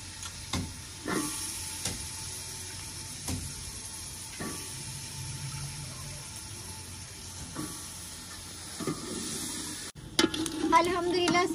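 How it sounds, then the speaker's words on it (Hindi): Carrots, potatoes and cauliflower fry in a pan for mixed vegetable pulao, a steady low sizzle broken by occasional spoon clinks and stirring scrapes, then a louder burst of hissing near the end. "अब मैं इसमें डालूँगी सब्ज़ी। सब्ज़ी है गाजरें, आलू और गोभी, जो मैंने काट कर धोकर रख ली थी।"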